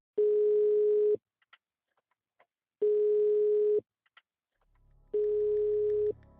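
A telephone ringback tone sounds on an unanswered call: three long steady beeps with silent gaps between, loud and close, with faint clicks in the pauses.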